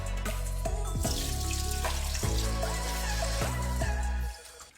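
Water runs steadily into a sieve of soaked beans being washed for moimoi, a full continuous pour with splashing that cuts off sharply near the end.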